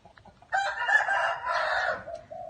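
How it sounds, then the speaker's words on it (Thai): Young fighting roosters crowing in a training shed at a Thai chicken farm, one loud drawn-out crow lasting over a second, close by, with fainter clucks around it and no talk. "เป็น ที่เลี้ยงไก่หนุ่มนะครับ ไก่หนุ่มตรงนี้เป็นโรงโรงเรือน ที่ซ้อมไก่นะครับ"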